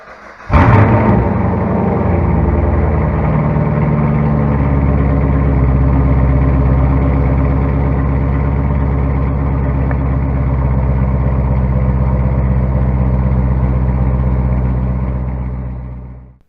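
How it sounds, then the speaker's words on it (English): A 2016 Chevy SS with a Roto-Fab cold air intake cold-starts with a short crank, then catches and settles into a loud, deep, steady idle close by until it cuts off. "let's hear this cold start"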